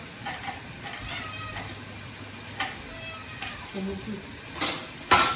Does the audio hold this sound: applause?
no